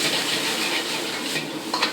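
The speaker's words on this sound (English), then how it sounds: "The sizzle of a wok" A wok sizzles in a Thai chef's kitchen in Waco, Texas, a dense continuous hiss of frying with stirring and a couple of metal clinks of utensil on pan near the end.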